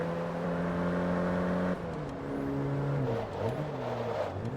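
Lancia Delta engine in the Forza Motorsport racing game, a steady high drone that drops in pitch, then revs up and down through shifting tones, loud and continuous with no talking.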